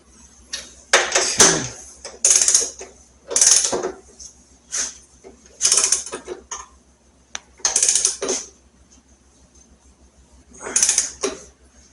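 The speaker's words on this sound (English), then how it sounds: "This bigger torque wrench set to 72 inch-pounds." A large torque wrench set to 72 inch-pounds tightens the front fork bolts on a Road King motorcycle, giving about seven close, loud bursts of metallic ratcheting and clicking with short silent gaps between them, and no voices.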